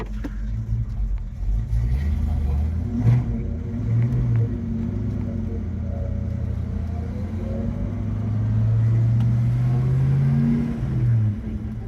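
A 1972 Mercury Cougar with a 351 Cobra Jet V8, roller cam and four-speed idles with a deep, loping rumble close by, swelling through a few throttle blips and a longer rev before settling back.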